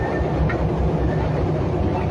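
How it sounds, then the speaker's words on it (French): An RER A commuter train at La Défense gives a loud, steady rumbling roar of rolling carriages with faint rail rattle throughout. "Mon trajet, je prends le RER A"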